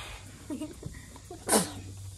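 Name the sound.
sneeze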